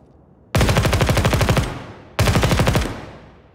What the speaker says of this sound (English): Oh, we can go full auto?